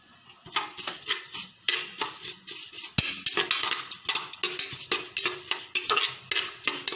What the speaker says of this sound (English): Now let's stir it.